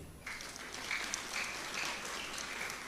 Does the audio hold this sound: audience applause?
yes